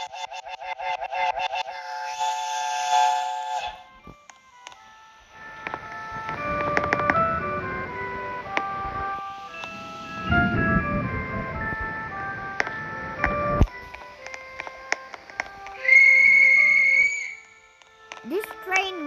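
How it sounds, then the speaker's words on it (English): Melodic synthesized whistle and horn tones play in a game, with a bright tooting burst near the end, a voice speaking in between. "I can toot the horn"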